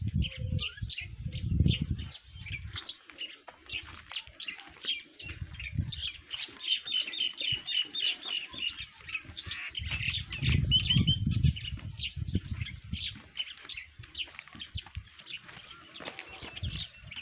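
Pigeons flutter and call amid steady outdoor chirping at a Buddhist stupa in Sindh, with bursts of low wingbeats and cooing at intervals throughout.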